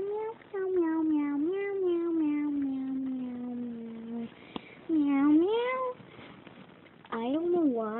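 A human voice imitates cat meows, singing a long series of drawn-out, pitch-sliding meows in three phrases with short pauses between them.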